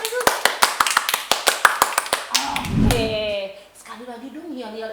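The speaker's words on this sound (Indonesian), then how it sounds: "Tepuk tangan sekali lagi dong buat itu" Children at an online church service clap about a dozen sharp, evenly spaced beats, then break into cheering and speech.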